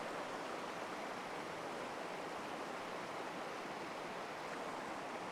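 Cold mountain stream high on a Colorado pass, flowing fast and full, a steady broadband rush of water that stays close and loud for the whole stretch without any voices.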